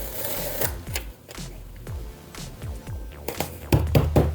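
Rapid clacky keystrokes tap away on a heavily customized keyboard with an oversized space bar, in an uneven rhythm, close and crisp, with a few louder thumps near the end.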